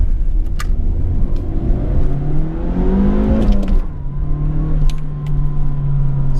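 A turbocharged 1997 Nissan 180SX Type X pulls hard with a steadily rising engine note, then drops pitch sharply around a gear change before settling into a steadier drone, all close and loud with no voices.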